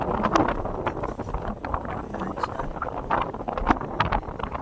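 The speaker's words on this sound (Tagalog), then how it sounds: "Lakas ng hangin" Strong wind on a farm-to-market road buffets the microphone in continuous rough gusts, with faint voices mixed underneath.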